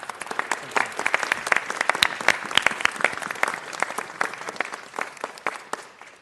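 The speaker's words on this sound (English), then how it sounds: "Let's give the President. chief a round of applause" Audience applause at a city council meeting, a dense run of many hands clapping steadily for about six seconds before thinning out near the end.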